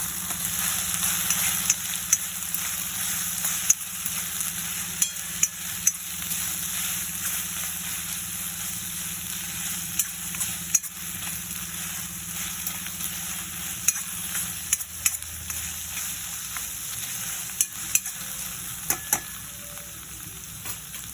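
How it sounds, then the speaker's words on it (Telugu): Chettinad pepper chicken sizzles and crackles steadily in a hot pan as it is stirred, a constant close frying hiss with occasional scraping clicks. "ఇలా బాగా వేగిపోయిన తర్వాత మళ్ళీ కలుపుకోవాలి."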